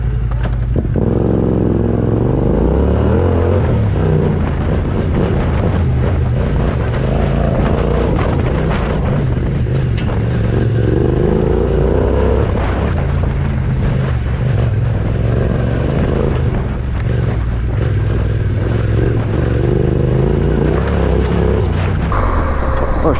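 A motorbike on a mountain road from Gilgit to Hunza Valley in Pakistan roars continuously and loudly as it climbs, with steady engine drone and rushing wind noise throughout.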